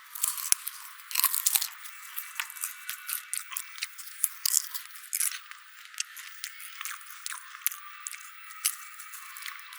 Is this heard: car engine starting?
no